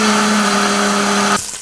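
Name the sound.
Vitamix high-speed blender blending soup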